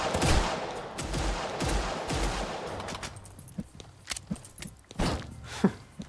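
Rapid bursts of Desert Eagle pistol fire and other gunshots in a Roblox shooter game, a dense volley at first, then scattered single sharp cracks with footsteps between them.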